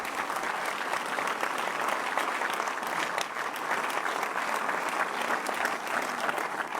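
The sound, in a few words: audience applause at political rally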